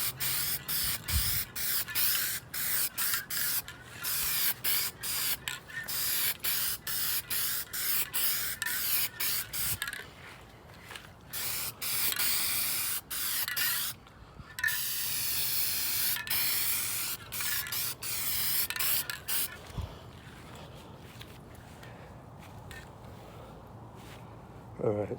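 Spray paint goes on as a second coat over a Honda DC2 bumper, heard as close, loud hissing bursts in a fairly regular on-off rhythm, with a few longer passes and brief pauses between.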